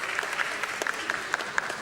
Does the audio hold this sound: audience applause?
yes